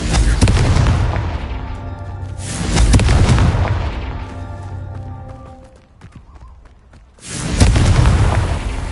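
Repeated booming spell blasts of the Confringo fire curse in the Hogwarts Legacy video game, loud heavy bursts with rumbling decay, one after another, a brief lull near the end before another powerful boom.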